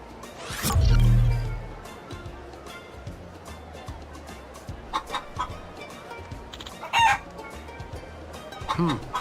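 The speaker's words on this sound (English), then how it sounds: "You can hear the chickens talking?" Chickens cluck and a rooster crows in the Hawaii setting of the Like A Dragon: Pirate Yakuza video game, with one loud crow near the start followed by scattered softer clucks over a steady ambient bed.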